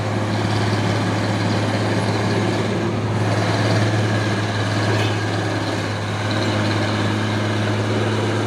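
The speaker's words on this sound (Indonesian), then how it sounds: "Masuk lagi satu nih dump truk Pulsar nih." A Pulsar dump truck arriving, its engine a steady, loud low rumble with a constant deep hum that holds throughout and eases slightly near the end.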